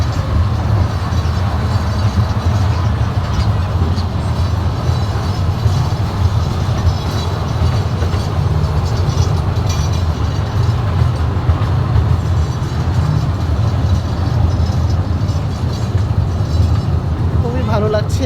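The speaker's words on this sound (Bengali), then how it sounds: "একটি বাগানের ভেতর দিয়ে এই ট্রেন এগিয়ে চলছে" Small museum train at the Bangladesh Air Force Museum in Agargaon, Dhaka, running through a garden, a loud steady rumble and rattle heard from on board, with people talking over it throughout.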